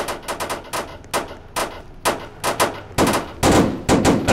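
AK-103 rifle fire in the Roblox video game, a series of loud, sharp shots in short bursts and single cracks with brief gaps between them, close and dominant.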